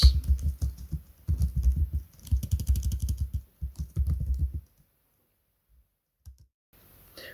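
Keys clatter on a computer keyboard while code is typed, bursts of rapid close clicks in several runs, then a pause with only a few faint taps near the end.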